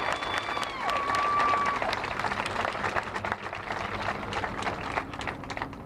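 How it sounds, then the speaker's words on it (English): Crowd applauding at an outdoor rally held by a grieving family, steady mixed clapping at a moderate distance, with brief whistle-like tones early on and faint voices in the crowd. "Give them a round of applause, y'all, because they've been standing for Elijah."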